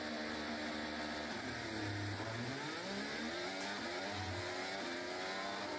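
A Formula 1 car launches from a standstill at the Italian Grand Prix in Monza during a practice start, captured onboard George Russell's car, its engine rising in pitch through rapid upshifts, loud and close throughout.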